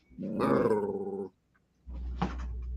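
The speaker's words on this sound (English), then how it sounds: "Did Sam just growl?" A dog gives a low, brief growl at close range, then after a short pause a second rumbling growl with a faint whine, in a quiet indoor room.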